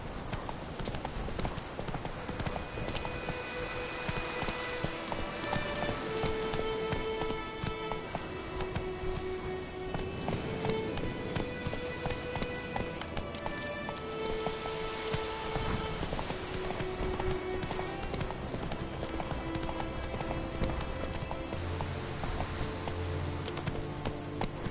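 Steady galloping hoofbeats of the horse Roach in a video game, a fast, even clip-clop rhythm running the whole time under a sustained musical score, moderately loud and close.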